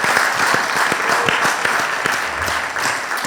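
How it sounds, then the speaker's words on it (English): Audience at a summit plenary session applauds a presenter, steady dense clapping from many hands filling the room at close range for a few seconds. "Let's give him a big round of applause."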